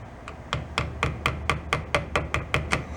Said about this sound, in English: No, hammering is not going to work.